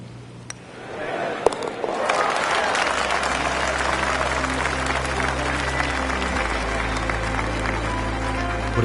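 Crowd applause in a golf video game at Wolf Creek's finishing hole after an eagle attempt, swelling from a quiet start into steady, sustained clapping and cheering that holds to the end.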